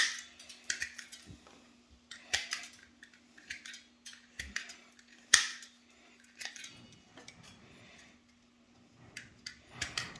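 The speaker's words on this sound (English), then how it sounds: "you're going to trim just the excess off without going too deep and staying off of the pad of the hoof" Sharp snipping clicks from hoof trimmers cutting away excess goat hoof, scattered at an irregular pace with quiet pauses between clusters of cuts, close and fairly soft.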